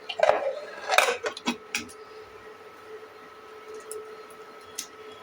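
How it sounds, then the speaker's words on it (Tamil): Metal clanks and clicks from a pressure cooker lid being closed over urad dal rice, with a few sharp knocks near the start and then quieter scattered taps. "இப்போ நம்ம குக்கரை நல்லா மூடி வச்சிடலாம்."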